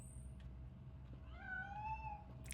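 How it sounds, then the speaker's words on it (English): A single drawn-out cat meow rises and falls in the RoboCop video game. It is quiet and brief over low background hum. "That cat must be hiding inside."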